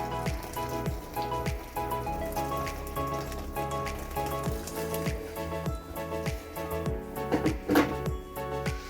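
Boiled water from a kettle is poured over beef feet in a pot for mocotó broth, a steady continuous splashing stream running the whole time under background music.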